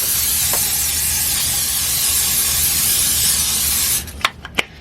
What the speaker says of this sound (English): just spray the top so it kind of gets like a little caramelization crisp